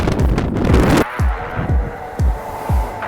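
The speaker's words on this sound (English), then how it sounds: "Ooh, this wind is getting nasty, folks" Loud wind roars and buffets against the microphone in heavy gusts while cycling downhill into Sparwood, a rough continuous rush with repeated low thumps.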